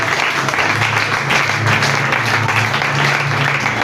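A church congregation breaks into sustained applause, with dense, continuous clapping from many hands that fills the room at a steady loudness.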